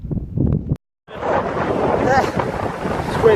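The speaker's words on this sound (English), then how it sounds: "It's windy." Strong wind buffets the microphone in a steady broadband roar after a brief pause; a short burst of talk comes first.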